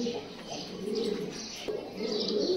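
Racing pigeons in a pigeon loft coo in repeated soft, throaty bursts with occasional chirps, close by and fairly clear.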